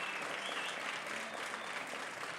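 Students applaud at a campus SRC manifesto gathering in Soshanguve, a steady, dense wash of clapping from a crowd that carries on evenly for the whole stretch without a break.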